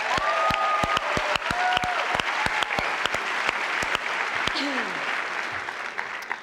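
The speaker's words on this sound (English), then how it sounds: "why don't we give a round of applause to Queen Latifa, our beautiful, beautiful host" Applause for the host at the 1999 Spirit Awards ceremony, a steady wash of clapping from a large audience with sharp individual claps standing out, lasting several seconds.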